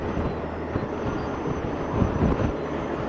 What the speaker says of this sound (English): Gee, she's windy out here today. They reckon 70k winds.